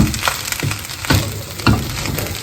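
Bacon-egg fried rice is stirred in a hot pan, a continuous sizzle broken by three or four scraping stirs at an even pace.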